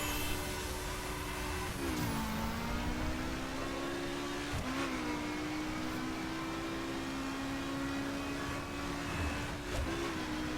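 A BMW M4 engine in The Crew racing game drones steadily at close range, with a sustained hum that dips and shifts pitch at each gear change, three times over the stretch, and no voices.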